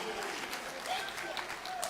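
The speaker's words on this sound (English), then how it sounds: "a better round of applause for the soon-to-be Her Excellency, the Vice President of the Republic of Ghana, Professor Naana Janeas" A crowd at an outdoor political event applauds a vice-presidential running mate, a faint, steady wash of clapping with scattered cheers and distant murmur throughout.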